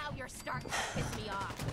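Rapid gunfire from a powerful gun in the video game Fallout 4 bursts in a dense fusillade over about two seconds, loud and repeated, with game effects layered underneath.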